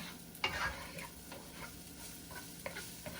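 Meat and garlic sautéing in a pan on a stovetop, a soft sizzle with a few scraping stirs and clicks of a utensil against the pan, fairly quiet and steady.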